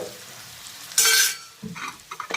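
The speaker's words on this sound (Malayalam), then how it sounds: "ക്യാപ്സിക്കം അരിഞ്ഞത് ഇടും. അതും കൂടി ഇട്ട് വഴറ്റണം." Sliced capsicum and green chillies sautéed in a hot pan for a Kottayam-style Kerala chicken curry, a sharp burst of sizzling followed by scraping stirs and light clinks of the utensil.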